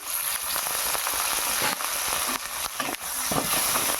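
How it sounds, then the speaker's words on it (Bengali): Chopped onion and tomato fry in hot oil seasoned with black cumin seeds while being stirred, a dense, close sizzle with crackling pops and scraping that runs throughout without any talking. "ভালো করে এটাকে তেলের ওপর ভেজে নিতে হবে।"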